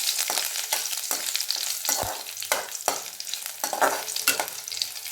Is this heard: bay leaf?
yes